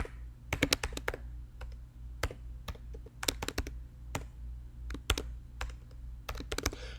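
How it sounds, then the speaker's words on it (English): Typing on a computer keyboard, heard close up in quick bursts of clicking keystrokes with short pauses between words, quiet and with no voice. "Let me type this in real quick."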